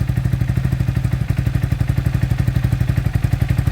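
A motorcycle engine idles with the choke lever on, a steady, loud, even rapid thumping beat with a rattly clatter running through it, close up and with no talk.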